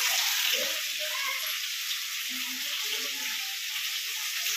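Ginger garlic paste fries with tomato in a pan, a steady bright sizzle that runs without pause, with faint low murmurs underneath.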